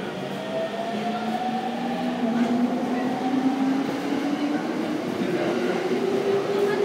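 At Gotanda Station during the evening rush, a Yamanote Line train pulls away. A steady rumble runs under an electric motor whine that climbs in pitch as the train gathers speed.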